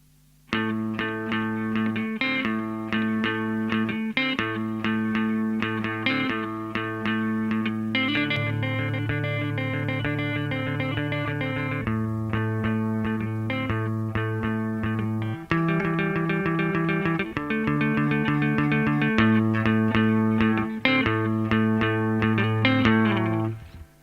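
An electric guitar plays clean, sustained chords and single notes through a Fender Twin Reverb and a Princeton Reverb amp, heard one after the other and then together, with steady strumming and no talking.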